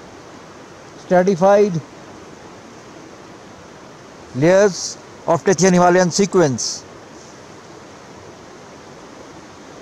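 The Indus River rushes as a steady, broadband roar below Himalayan rock banks of granite and stratified layers, with someone speaking over it at intervals.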